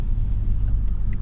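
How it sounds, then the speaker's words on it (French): Jaguar XJ V8 engine breathing through a stainless steel exhaust line fitted with valves, a deep, steady low rumble held close and loud, with no talking. "Ça fait un son qui est magnifique. Il n'y a que le V8 qui fait ça."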